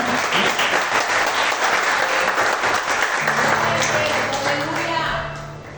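A church congregation applauds during a worship service, a dense, loud wash of clapping that holds steady before fading, with voices speaking over it.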